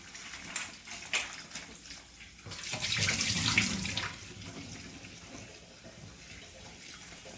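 Tap water runs into a kitchen sink to wash cauliflower, a steady splashing flow that swells louder for a moment in the middle, with scattered clinks of handling before and after.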